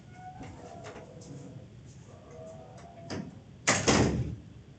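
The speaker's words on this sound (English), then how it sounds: "Just going out the door." A door opened on the way out, heard as a few quiet clicks and handle rattles followed by a louder scraping swing and thud near the end, close by in a quiet room.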